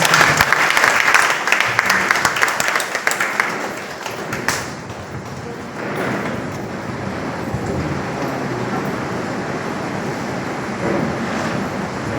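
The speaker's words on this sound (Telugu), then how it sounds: "సో గట్టిగా క్లాప్స్ కొడదాం" A crowd welcomes a guest to the stage with loud, crisp applause for several seconds, which then fades into a softer, diffuse rumble of the room and a few scattered claps.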